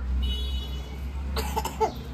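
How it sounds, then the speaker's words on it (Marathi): A short burst of two or three coughs in quick succession, close by, over a steady low background hum. "अयो खोकला येतो"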